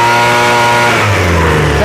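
A Craftsman leaf blower's small two-stroke engine runs steadily right after a carburetor rebuild, loud and close with a buzzing tone that dips and shifts pitch partway through as the idle wavers.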